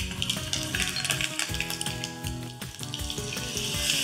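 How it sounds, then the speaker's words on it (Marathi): Mustard seeds, cumin and curry leaves crackle and sizzle in hot oil as a tempering, a bright continuous hiss with small pops under steady background music. "वा, काय मस्त खमंग फोडणी बसली"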